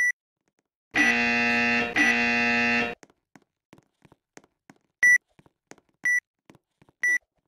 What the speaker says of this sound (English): The beeping is making me go insane.